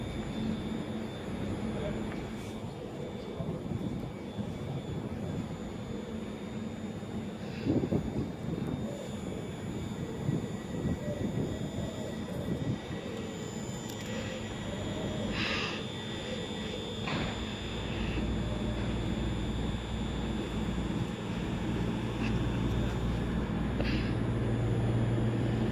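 A Virgin Super Voyager train in Bombardier livery passes through Crewe station on the West Coast Main Line, a steady rumbling roar with wind noise that builds slightly louder toward the end, a voice speaking intermittently over it.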